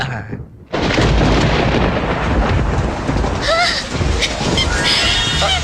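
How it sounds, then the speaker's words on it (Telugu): Heavy rain and rolling thunder in a film scene, a dense loud downpour roaring steadily after a quieter opening, with booming rumbles underneath. "అయ్యో, వర్షం తడిచిపోతారండి."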